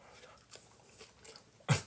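Nacho chips crunched close to the mic in a single loud, sharp burst near the end, after a stretch of quiet with a few faint clicks.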